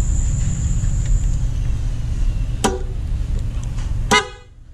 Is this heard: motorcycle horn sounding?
yes